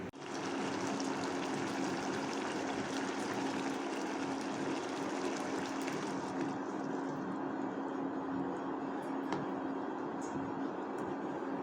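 Water pours into a pan of potatoes spiced with turmeric, salt and sugar, a steady rushing stream that thins out partway through, leaving a quieter trickle.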